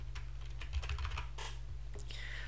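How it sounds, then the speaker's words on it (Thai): Fingers type on a computer keyboard while filling in a Google Form, producing a quick, irregular run of light key clicks close to the microphone over a steady low hum, with no talking. "เราก็จะพิมพ์ใส่เข้าไป"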